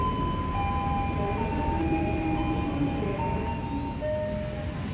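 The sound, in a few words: train at Surabaya Pasar Turi station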